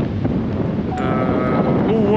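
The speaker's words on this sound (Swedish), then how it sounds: "Det är vind på Karlfjället" Strong wind on a Swedish mountain buffets the microphone with a loud, continuous low rumble and roar throughout, with a faint thin whistle rising over it.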